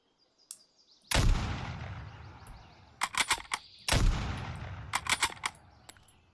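Two sharp, loud bolt-action rifle shots ring out in the video game Road to Vostok, each with a long decaying tail, separated by clusters of metallic bolt-cycling clicks.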